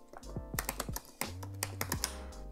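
A command is typed on a computer keyboard, a quick irregular run of crisp key taps of varying strength, close and fairly quiet with no talk.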